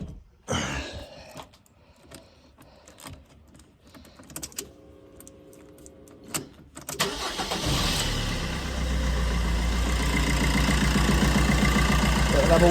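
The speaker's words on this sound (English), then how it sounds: "I'm just gonna give it a start up and let it warm up and see that we haven't got a leak" Fiat 500 with a 1.3 Multijet diesel engine cranking and catching after a radiator replacement, then settling into a steady, fairly loud idle, preceded by scattered clicks and handling noises.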